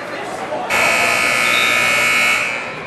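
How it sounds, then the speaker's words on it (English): A loud, sustained electronic buzzer sounds in a high school gym during a girls' volleyball match, starting abruptly and holding steady for about two seconds before fading, with crowd noise beneath. "That buzzer means the ball is back in play"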